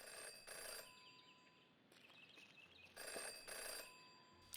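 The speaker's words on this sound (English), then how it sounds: "Jenny had learned never to ignore a ringing phone" A telephone rings inside the detective adventure game Jenny LeClue, two bursts of bright repeated bell tones about three seconds apart over a quiet room hum, with faint chirpy game ambience between the rings.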